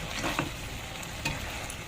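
Eggplant frying with minced pork is stirred in a pan, making a close, dense sizzle with two quick scraping clatters of the utensil against the pan.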